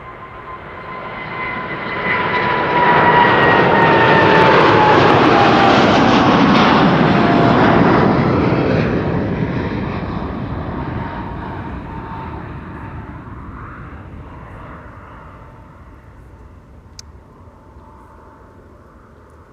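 A KLM wide-body jet departs Schiphol for LAX, its engine roar swelling loud over a few seconds, then slowly fading into the distance with a faint high whine.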